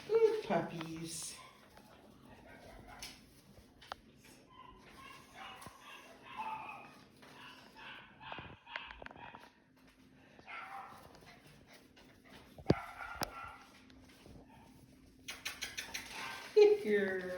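Schnoodle puppies whimper and yip in short, scattered bursts, close by, while someone talks softly to them throughout, with a few small knocks and rustles.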